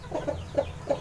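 A Pelung hen clucks in a quick, steady series of short, close clucks, about four in a second, over a faint low hum.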